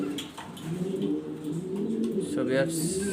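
German Beauty Homer pigeons in an Andalusian colour pair, cooing in low, rolling, repeated calls close by, with someone talking over them throughout.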